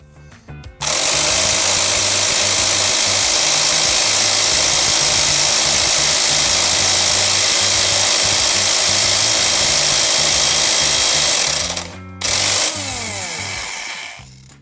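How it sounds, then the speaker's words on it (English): A loud, continuous power-tool whir, likely an impact wrench driving a 27mm socket on a chain-related nut of a Kawasaki Versys 1000 SE motorcycle, runs steadily for about eleven seconds, breaks briefly, then resumes before winding down. "For this heavy job I need 27mm socket wrench."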